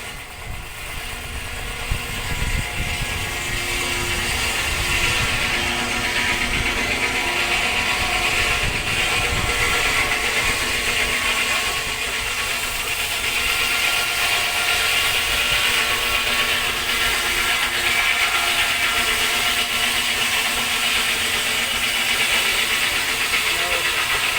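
A steam traction-engine-driven saw at an outdoor club rally in Ballygowan, Northern Ireland takes a fine skim off a length of timber, a loud, continuous mechanical roar and whine running unbroken for the whole stretch.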